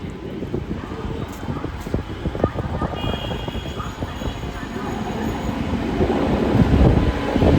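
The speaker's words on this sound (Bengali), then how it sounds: "কাজ করতে কাজ করতে ট্রেন ঢুকে গেছে এখানে" A train rumbles along steadily with low, rolling rail noise that grows slightly louder toward the end, with wind buffeting and faint voices in the background.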